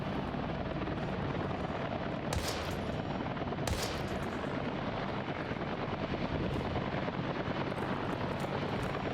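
Dense, continuous gunfire from the survival-horror video game Daymare: 1998 blends into a steady roar of rapid shots with a couple of sharper bursts, loud and close, with no talking.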